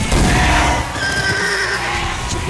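A horse whinnies loudly with a shrill, wavering cry, set against busy game sounds and rumbling effects in Call of Duty: Black Ops II.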